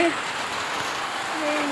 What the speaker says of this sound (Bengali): দেখো সেই বৃষ্টি হচ্ছে।